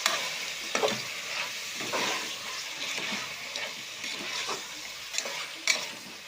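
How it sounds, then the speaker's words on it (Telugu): Sliced onions frying for goat head curry, stirred with a spoon now and then, with a steady sizzle and soft scraping knocks recurring through the pan. "ఇట్లా ఉల్లిగడ్డలు వేస్తున్నా తలకాయ కూర. ఇది మంచిగా కలుపుకోవాలి."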